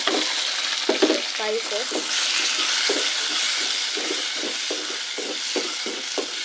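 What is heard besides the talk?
onions frying in a pot for beans stew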